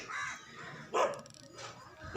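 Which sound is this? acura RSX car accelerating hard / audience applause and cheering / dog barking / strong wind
dog barking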